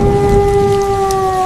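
Heavy stormy rain pours steadily in a rural village setting, a dense loud wash of noise with a deep thunder rumble underneath and a low steady hum running through.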